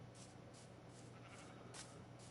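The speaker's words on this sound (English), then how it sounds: "I need just one more sheep" Sheep in Minecraft bleating in short repeated bursts, fairly faint over a steady low background hum, with no talking.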